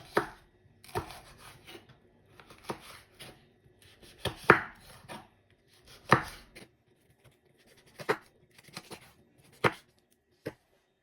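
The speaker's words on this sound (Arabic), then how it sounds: "انا عندي هنا نصف فلفله خضراء كيف كتشوفوا. غادي نقطعها على هذا الشكل" A knife chops half a green pepper on a board in about ten sharp, separate, close strikes at an uneven pace, with short quiet gaps between them and no talk.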